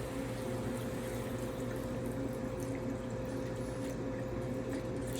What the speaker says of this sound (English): To that, this is a quart of vegetable broth.